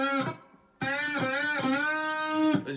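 Electric guitar plays part of a riff with repeated full-step string bends, producing clear, slightly gritty sustained notes that rise in pitch, with a short pause after the first pick.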